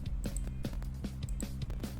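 Heavily compressed drum loop from a Fruity Send bus in a song's mix: punchy, steady kick-and-snare hits with sharp cymbal accents, loud and dense, alone with no voices.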